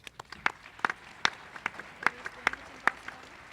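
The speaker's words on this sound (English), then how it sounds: "Let's give him a round of applause." Sparse applause from a conference audience at a science of consciousness plenary, scattered individual claps rather than a full ovation, moderately faint and fairly distant, with no talking over it.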